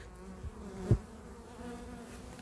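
Honeybees gathering pollen on cover crops in a field buzz in a low, steady drone close by, with one brief thump partway through and no voices.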